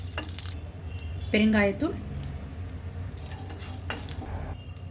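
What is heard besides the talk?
mustard seeds, dried chillies, curry leaves sizzling in oil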